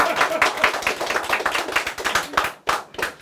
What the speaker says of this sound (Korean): 이럴 때 박수도 한번 쳐주세요